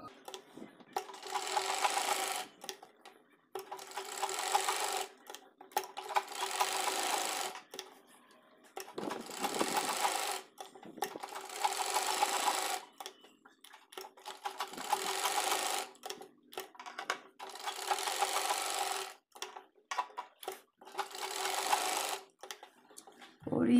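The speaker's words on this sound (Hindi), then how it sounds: "यहाँ बीच में हम इस तरह से मशीन चलाते हुए कोई डिजाइन दे देंगे" A sewing machine runs in repeated bursts of about two seconds each, stitching a decorative design on a dhoti salwar, with short pauses between runs and no talking.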